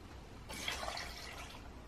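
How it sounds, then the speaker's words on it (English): Milk poured into a saucepan already holding chocolate for lactose-free hot chocolate, a soft steady liquid pour that starts about midway and runs on at low level with no talk. "add all of my chocolate to my saucepan, followed by my milk"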